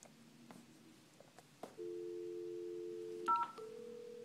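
A Cisco conference room phone dials a call: short touch-tone beeps, then steady sustained tones ring out clearly in a quiet room, with no one talking.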